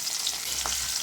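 Garlic, green chili and onion frying in a pan, a soft steady sizzle with one light stir or clink near the middle, close and without speech.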